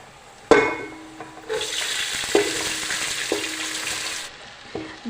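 Bulgur hits a hot pan of frying onion with a sudden sizzle, followed by a hissing fry and a few sharp spoon knocks and scrapes as it is stirred, close up and without speech.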